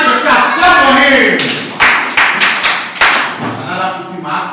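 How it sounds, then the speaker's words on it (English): Children at a kids' virtual camp clap together: a handful of loud, sharp claps in an uneven rhythm through the middle, with speech before and after. "Clap for him."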